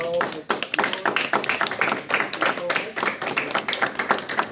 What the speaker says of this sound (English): Can we give Dr. a round of applause?